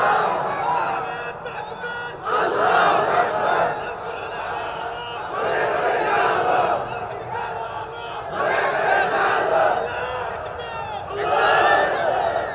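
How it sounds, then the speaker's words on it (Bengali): A large crowd at a religious gathering shouts the takbir, Allahu Akbar, in repeated loud collective waves, each chant swelling and fading in turn. "কি মাহফিলে মাঝখান দিয়ে তাকবীর দেওয়ার মতো কেউ নাই?"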